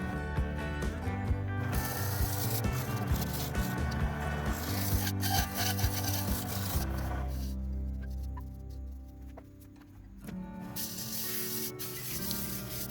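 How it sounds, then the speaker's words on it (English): Steady, abrasive rubbing and rasping against an elm and resin bowl, continuous and close, with a brief quieter stretch before the scraping resumes. "Time for more sanding"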